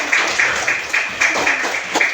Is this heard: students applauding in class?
yes